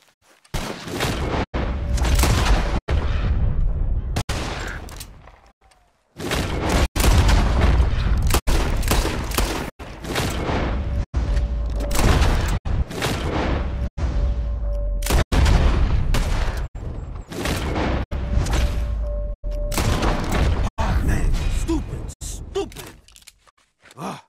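Repeated gunshots in Red Dead Redemption 2 as players fire at birds flying out of cover, loud near blasts coming in rapid bursts with brief pauses, over continuous outdoor game ambience.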